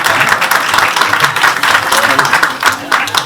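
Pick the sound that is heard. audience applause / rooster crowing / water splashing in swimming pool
audience applause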